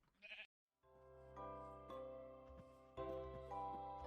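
A Minecraft sheep bleats in a hardcore survival farm: one short bleat, then a brief silence and sustained harmonic game tones, quiet throughout with no talking.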